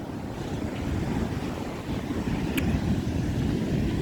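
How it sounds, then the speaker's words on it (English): Ocean waves wash up on an eroded beach in a steady, rushing roar mixed with wind noise on the microphone, continuous and fairly loud throughout, with no voices. "Oh, water was coming close, Brune."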